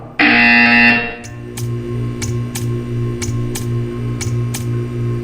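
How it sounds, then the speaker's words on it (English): A loud harsh buzzer in the video game Portal 2 blares for about a second, then gives way to a steady hum with regular ticking clicks. "You will hear a buzzer."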